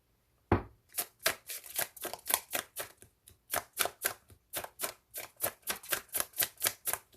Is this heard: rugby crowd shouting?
no